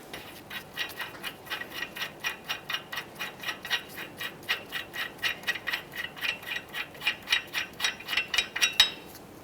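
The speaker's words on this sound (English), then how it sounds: "we can go ahead and remove our lug nut." A ratchet wrench clicking steadily as it spins off a lug nut on a 2015-2020 Ford F-150 front wheel during a brake job, a fast, even run of crisp mechanical ticks, close and alone.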